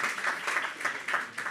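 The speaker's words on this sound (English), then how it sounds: "No, Who's clapping," An audience at a business panel claps in a brief, steady patter of many hands, moderately loud and continuous.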